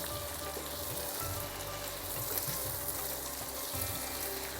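Onions being stir-fried in a pan for a homestyle brinjal bhaji, with a steady close sizzle running throughout and occasional low scraping thumps as they are turned.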